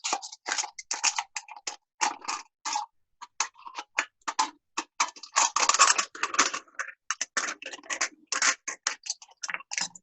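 Close, crisp snipping and crinkling as an aluminum soda can is pierced and cut open, in quick irregular bursts with short gaps, no voices.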